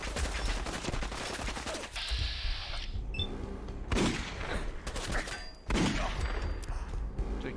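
Gunfire in Fallout 4, a rapid burst of shots with heavy low thumps, then a pause and further loud volleys near the middle and end, close and dense throughout.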